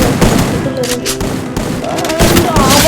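Loud, dense gunfire in a shooting video game, rapid shots running continuously for a few seconds, with a person talking over it.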